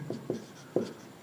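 Marker or chalk strokes on a board during a physics lesson: four brief, soft scraping marks at uneven intervals, faint and close, with no talking.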